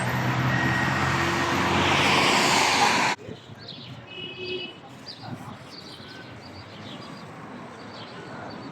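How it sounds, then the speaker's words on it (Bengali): Birds chirp and call intermittently against a quiet outdoor background, preceded by a few seconds of loud broadband noise that cuts off abruptly. "সুন্দর দৃশ্য নীরব পাখির কিচিমিচির শব্দ"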